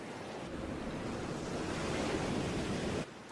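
Ocean waves wash steadily at the seaside, a broad, loud rushing surf that holds level and then drops off abruptly near the end, with no voices.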